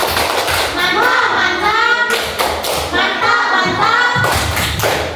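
Classroom students performing the rhythmic 'tepuk mantap' clapping chant, with loud, close, patterned bursts of hand claps and thumps interspersed with children's voices chanting along.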